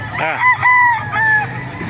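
A rooster crows nearby at a chicken market in Bocaue, Bulacan, Philippines, in a short, strained call with a few broken notes over faint background noise.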